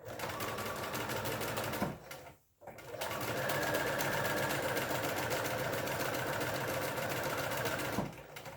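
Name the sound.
sewing machine stitching fabric coaster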